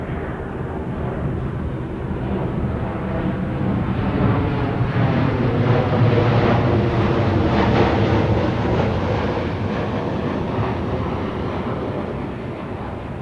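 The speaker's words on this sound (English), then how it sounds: "Fucking planes." Airplanes fly overhead outdoors, a loud broad roar that swells gradually and stays steady for many seconds before easing slightly, drowning out everything else.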